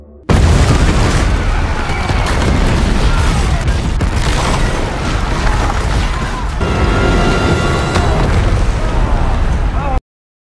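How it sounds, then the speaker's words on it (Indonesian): A loud, sustained explosive boom as a dome ceiling collapses, with heavy rumbling and crashing debris, filling the whole clip before cutting off abruptly. "terjadilah ledakan yang meruntuhkan langit-langit dom"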